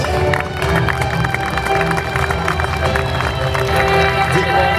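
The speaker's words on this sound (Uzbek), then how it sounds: "Olqishlaringiz." A large audience at a song contest final claps and cheers steadily in a dense, loud wash of applause, with voices mixed in.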